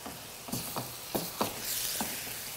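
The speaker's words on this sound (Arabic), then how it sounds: "انا سايبه بقى القلقاس ايه يتحمر ولغايه اللحمه بتاعتي ما تخلص كده وتتحمر حلو" Taro pieces frying in a pan as meat cooks alongside for an Egyptian taro moussaka, a steady sizzle punctuated by several distinct scraping stirs at irregular intervals, close and moderately loud.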